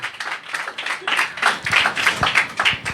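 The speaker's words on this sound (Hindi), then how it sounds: "आए उस यीशु के लिए ज़ोरदार तालियां बजाएं।" A congregation at a healing worship service claps loudly in a quick, rhythmic beat, with close, sharp claps in a steady pulse throughout.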